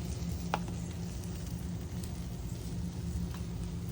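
Jalapeño pimento cheeseburgers sizzle on a very hot grill in a steady close crackling hiss, with a few sharp clicks and pops from the cooking and no talk.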